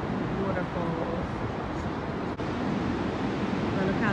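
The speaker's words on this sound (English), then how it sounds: "These are the falls." Niagara Falls roars as a steady, dense wash of falling water heard from a boat circling the falls, loud and continuous with wind buffeting the microphone and a brief dip partway through.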